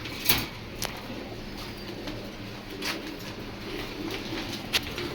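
Racing pigeons coo from a loft stocked for sale in Bangladesh: a few short, soft calls spaced over a steady low background hum, fairly close and moderately quiet.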